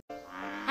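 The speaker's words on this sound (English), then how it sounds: "Is that the sound of a frog to you?" A brief anime sound effect meant to resemble a frog, played as the character Gekota appears: a short buzzing, reedy tone that swells after a moment of silence and rises in brightness at the end, heard alone.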